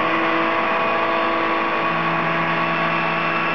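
A Minipack MVS 31 vacuum packaging machine runs its vacuum pump, a loud, steady, unbroken hum and whir holding at one level throughout with no voices over it.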